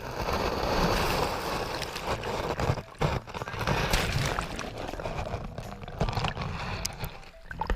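Waves wash and lap at the shoreline near Palmerston North, a steady broadband wash with soft surging swells and some wind across the microphone, no voices.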